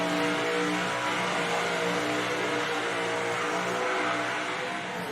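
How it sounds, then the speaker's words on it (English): A big supercharged skid car revs hard on a burnout pad, its engine a sustained, loud, harmonic drone that holds steady for several seconds without talk. "Big, blown, powerful, and hits the pad hard and fast. Big revs."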